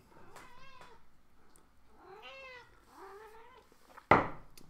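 A house cat meows several times at close range, drawn-out wavering cries with short pauses between them, then ends in a sudden loud knock or clatter.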